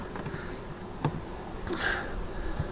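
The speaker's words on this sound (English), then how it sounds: "I've only got 5 or 6 bees that are floating around" Faint buzzing of a few honeybees drifting around an open hive in cold spring weather, a soft steady hum with one brief click, no voices.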